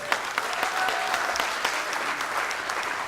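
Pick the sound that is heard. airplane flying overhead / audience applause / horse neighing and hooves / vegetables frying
audience applause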